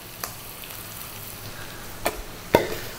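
Cassava rice with Kashmiri chili powder, turmeric and salt fries in a pan with a steady low sizzle, broken by a few sharp scrapes and knocks of a spoon as it is stirred.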